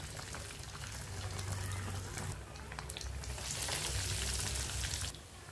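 Potato bread pakoda frying in hot oil, a faint, steady bubbling crackle that swells and fades, with light clatters of handling at the pan.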